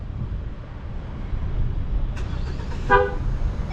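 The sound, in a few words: Mahindra XUV700 starting by remote, horn toot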